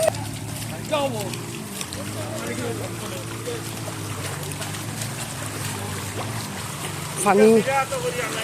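Fast-flowing floodwater in Tilagaon Union, Kulaura, Sylhet, a steady close rushing wash of water throughout with people talking over it.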